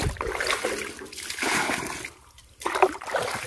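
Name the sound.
pouring water onto plants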